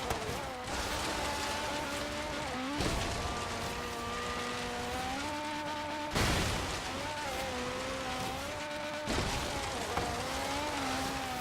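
Ferrari F40 rallycross build driven flat out in Forza Horizon 3, its engine note climbing steadily in pitch through each gear before sharp shift drops, loud and continuous throughout.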